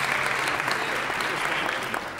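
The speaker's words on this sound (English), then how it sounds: "Clap again." An audience at a glee club show bursts into dense, continuous applause for Glenn, the percussionist. The clapping stays close and full from start to finish.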